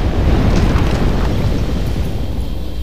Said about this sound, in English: Giant explosion!